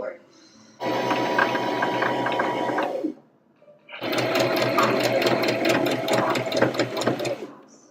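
A sewing machine stitches the arm of a dress in two long, close, steady runs of rapid rattling, separated by a brief pause, with people talking over part of it.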